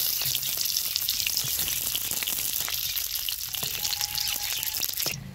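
Stuffed pointed gourd (potol), three pieces at once, frying in hot oil until browned; a steady, close crackling sizzle runs unbroken throughout, with no voices.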